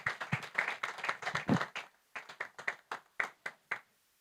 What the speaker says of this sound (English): That applause can come even louder and better than that